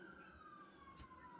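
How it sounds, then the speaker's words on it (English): An emergency vehicle siren wails outside as a faint, distant, slowly falling tone over a steady background hum, with a short knock partway through. "Sorry about the sirens."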